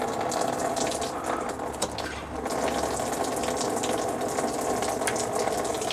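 Coolant gushing steadily from the drained radiator of a Lexus GX460, a continuous close rushing pour of liquid with no talk.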